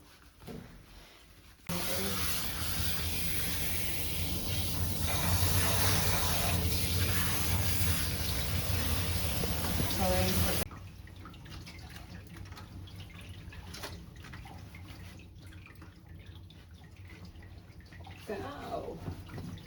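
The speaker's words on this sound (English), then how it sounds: "Just giving her a good scrub all over and then a rinse." Running water rinsing a Persian cat in a bath, a steady broadband spray for several seconds that then cuts off, leaving a quieter room with faint voices.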